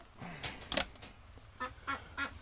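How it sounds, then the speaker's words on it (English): Ducks quack nearby in a few short, loud bursts, a pair of calls early on and then a quick run of three evenly spaced quacks, with no talking. "Oh, gimpy ducks."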